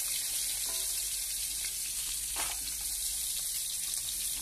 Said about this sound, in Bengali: ভাজা হচ্ছে, দেখো আমার মাছ ভাজাগুলো হয়ে গেছে।